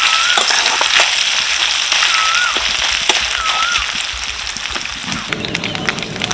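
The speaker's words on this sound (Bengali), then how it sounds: "নারকেলটা তেলের মধ্যে হালকা করে ভেজে নেবো" Coconut shreds lightly frying in hot oil in a wok, a steady close crackling sizzle that holds throughout with no talk.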